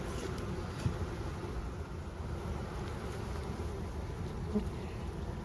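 Honey bee swarm buzzing steadily during a hive inspection, a dense continuous hum close by with no talk, holding even throughout.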